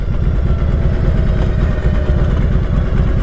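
Exhaust of a 2012 Harley-Davidson Street Glide with low miles, a loud, close, deep engine rumble that pulses steadily and evenly throughout with no talk over it.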